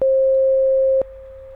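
A 532 Hz pure tone from a computer speaker, generated by a VB.NET program: one steady, loud electronic beep lasting about a second, then a quieter continuation of the same pitch, with a click at the start and at the level drop.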